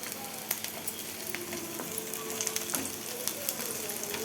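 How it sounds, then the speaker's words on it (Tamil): Garlic fries in hot oil in a pan for a Tamil garlic chutney, a soft steady sizzle with scattered crackles and pops, fairly quiet and close. "பூண்டை நல்ல எண்ணெயிலே நல்லா வதக்கி எடுத்துக்கணும்"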